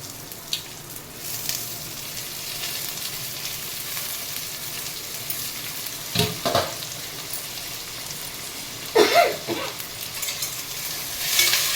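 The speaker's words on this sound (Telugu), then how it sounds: "కొంచెం వేగిస్తాం" Green chilies, curry leaves and potatoes fry in hot oil with a constant close sizzle, broken by a few louder stirring scrapes and clinks of a utensil against the pan.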